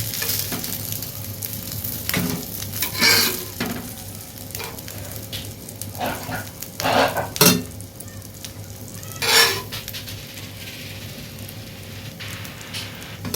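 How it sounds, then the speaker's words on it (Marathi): Fish frying on a tava griddle, village style: a steady close hiss of hot oil with several louder spitting, crackling bursts and occasional scraping from turning the pieces. "चला आता बाकीची उरलेली मच्छी आहे ती पण आता मस्त फ्राय करून घेऊ"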